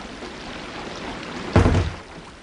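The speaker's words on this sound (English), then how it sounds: "The rain's pouring off your roof." Rain pouring off a roof, a studio sound effect in a BBC radio drama: a soft steady wash of water with one brief louder gush near the end.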